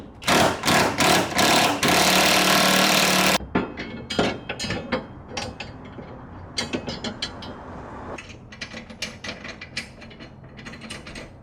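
A wrench ratchets on suspension bolts of a 2024 Mustang GT: rapid clicking bursts, then a sustained buzz, then scattered irregular ratchet clicks and metal taps, close and loud, with no talk.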